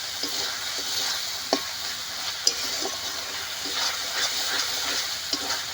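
Ground spices for katla fish kalia are stir-fried in a pan under a steady, faint hissing sizzle, with occasional light taps and scrapes from a spatula. No voices are heard.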